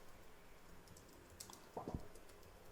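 A short burst of computer keyboard typing, a few quick keystrokes clustered near the end, fairly faint against a quiet room background.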